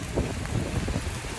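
Steady rain falls outdoors on a street in Campsie, Sydney, a dense broadband patter with some wind buffeting on the microphone, continuous and fairly loud for the whole moment.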